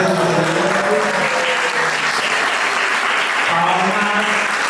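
An audience applauding with sustained, dense clapping at an even, loud level, while voices speak faintly underneath.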